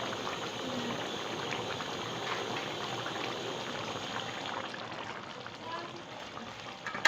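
Fish curry with garam masala simmering in a pan over very low heat, a steady soft bubbling and sizzling hiss that holds evenly throughout, close and moderately quiet.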